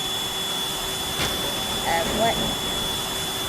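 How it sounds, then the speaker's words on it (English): A vacuum cleaner weapon runs in the video game Teardown, a loud, steady whooshing drone with a faint whine that holds throughout, with a brief spoken word over it. "You might think, why do you have a stupid vacuum cleaner?"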